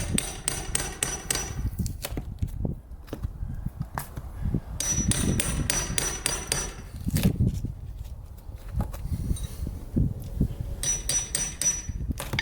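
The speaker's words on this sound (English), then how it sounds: "I'm just going to start chiseling away and we'll just pull it apart" A chisel is hammered against rotted, moldy wooden window trim in bursts of sharp, close knocks and taps, grouped in quick clusters with short pauses between, and no talking.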